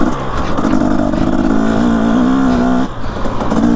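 A dirt bike engine drones loudly while riding, its pitch climbing and holding through the revs, then dipping briefly near the end before picking back up, close and continuous with no talk.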